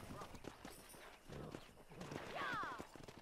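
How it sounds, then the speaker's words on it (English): Horse hooves clip-clopping with a neigh near the end, from the Western video game Red Dead Redemption, fairly faint and mixed under game sounds and talk. "Let's see if we can't wrangle some horses."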